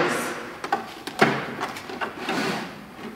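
Tool chest drawers slide open and shut in a car restoration workshop, giving a few sharp knocks and scraping runs, close and fairly loud, with no talk.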